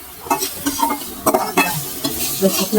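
Neem leaves fry in a pan with a steady sizzle, broken by repeated scraping stir strokes from a utensil, close and fairly loud, with no talking.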